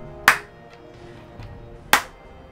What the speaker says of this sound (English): Is this a slow clap?